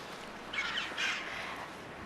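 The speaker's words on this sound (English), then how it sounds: "choughs pair for life, so we see them together like this a lot" Red-billed choughs call at their nesting cave, two harsh, squawking caws close together against a steady background hiss, with no talking.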